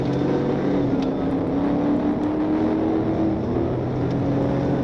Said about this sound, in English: The way that mug rev out though, it sounds so good.